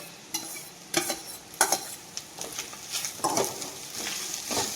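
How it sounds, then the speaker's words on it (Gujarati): Rice seasoned with Maggi masala and onion is tossed in a pan, with repeated spoon scrapes and clanks against the metal over a light sizzle in an uneven stirring rhythm. "હવે રાઈસને હલાવી દઈશું"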